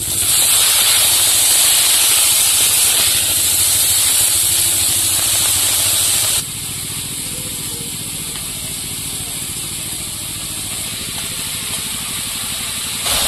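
Leafy greens hit hot oil in a wok over a clay stove and let out a loud, steamy hiss that runs steadily, then drops abruptly to a quieter, even sizzle for the rest.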